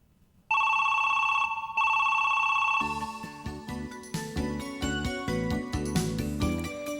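A telephone bell rings in two bursts of a bright trilling tone, then gives way to a short cheerful jingle of plucked notes, clear and close with nobody speaking.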